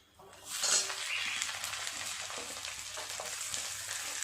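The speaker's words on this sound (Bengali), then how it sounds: "পেঁয়াজটা একটু নেড়ে চেড়ে ভেজে নেব" Chopped onion, added over ginger, garlic and green chilli, hits a hot pan and sizzles loudly, then fries steadily with a bright hiss while occasional scrapes and taps of stirring come through, close up and with no talking.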